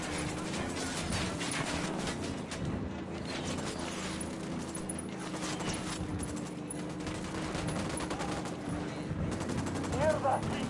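Continuous automatic gunfire rattles through a firefight in the tactical shooter Ghost Recon, dense rapid bursts layered over battle ambience with occasional voices mixed in.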